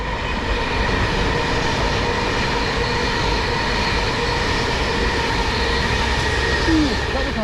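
A train rumbles across a railway bridge near Penny Lane in Liverpool, a loud, steady rolling roar with faint rail squeal throughout and no talk.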